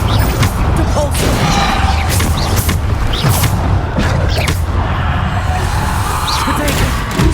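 Loud magical spell effects from Hogwarts Legacy, including the Repulsor spell: a series of booming thumps and crashing whooshes in quick succession, mixed with game sounds and some voice.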